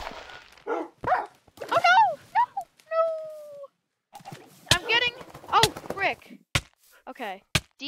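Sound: dogs barking in a video game (SuperCraft)

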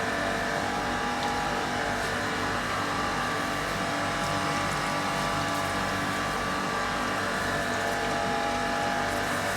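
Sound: grinding wheel touching cylinder head on surface grinder

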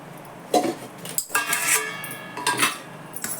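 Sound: metal steamer stand placed in wok of water

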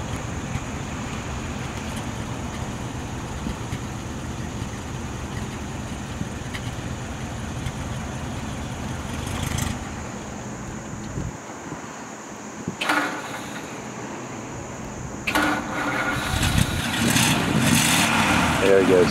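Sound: 1950 Ford Custom Coupe engine idling

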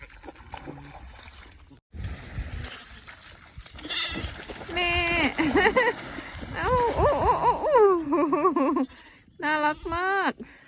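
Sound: sheep bleating, mother sheep and lamb

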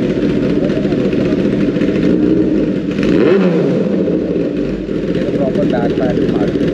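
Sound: Kawasaki motorcycle revving with SC aftermarket exhaust

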